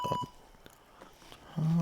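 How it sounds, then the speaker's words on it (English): A short electronic beep from a computer at boot after a failed OS/2 2.0 installation rings out near the end, over faint background hum and clicks. "single beep"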